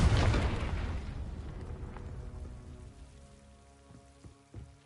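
The Confringo fire spell goes off in Hogwarts Legacy as a loud fiery blast up front, then a crackling, rumbling burn fades away, with a few light pops near the end.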